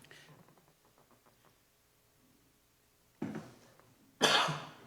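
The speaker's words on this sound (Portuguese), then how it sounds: "vai ser difícil a tosse" A person coughs twice, close to the microphone, during a city council session in Chapecó, Brazil, after a stretch of near silence with faint murmuring at the start.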